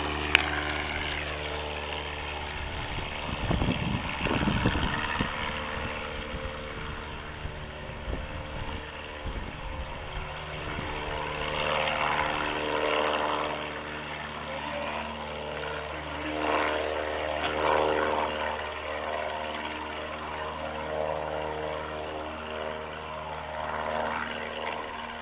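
A J2 McCulloch gyroplane flies past outdoors, its engine and propeller producing a steady droning hum that stays fairly loud for about twenty-five seconds, with a brief rougher surge near the start and mild swells later on.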